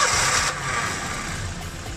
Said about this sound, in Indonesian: Coba kita dengarkan suara mesinnya ya.